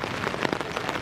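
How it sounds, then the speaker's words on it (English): Heavy rain pouring down outdoors, a dense close patter of drops striking surfaces in a continuous hiss with scattered louder splats. "Okay, it's mad pouring outside."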